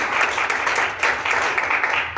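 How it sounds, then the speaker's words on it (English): An audience at a youth cycling panel discussion at the Philly Bike Expo claps for the panelists, a moderate, even patter of many hands that keeps a steady level for a couple of seconds. "let's give our panelists a big round of applause for being here today"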